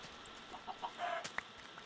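Chickens cluck in the Minecraft video game: a run of short, soft clucks and chirps, fairly faint and close together, with no talking over them.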